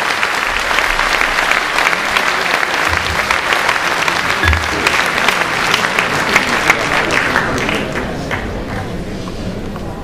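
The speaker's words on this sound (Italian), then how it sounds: "Voglio sentirlo più forte l'applauso" Loud, dense applause from a large audience at an Italian political event, sustained clapping that fills the room for ten seconds and eases slightly toward the end.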